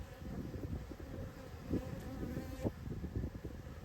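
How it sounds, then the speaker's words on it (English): Honey bees buzzing during a spring hive inspection, a faint continuous droning hum with a few louder passes as single bees fly close, no talking. "I somehow got a bee in my pocket because I can feel her buzzing around in there"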